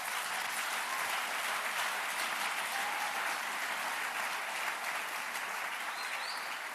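A church congregation at a worship service breaks into sustained, dense applause that holds steady and full throughout, heard from within the crowd.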